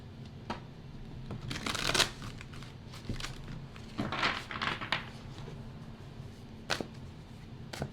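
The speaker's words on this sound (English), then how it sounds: "one more shuffle for group 4" Tarot cards being shuffled during a pick-a-card reading, with repeated soft riffling and flicking bursts at moderate volume over a faint steady background hum, no talking.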